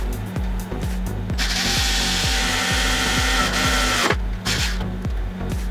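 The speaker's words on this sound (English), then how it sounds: "Probably should have drilled first before I put those wires on there." A power drill whirs steadily while boring into a brass lamp, with a rapid rhythmic chatter throughout and a harsher, grinding bite through the metal in the middle before easing off.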